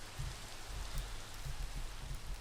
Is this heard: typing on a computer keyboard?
no